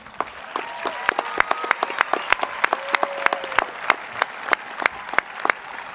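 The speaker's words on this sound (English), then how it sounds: "Please, let's give them a round of applause." A crowd at a high school graduation ceremony applauds in a large hall, sharp individual claps standing out over a sustained wash of clapping, with faint cheering tones beneath.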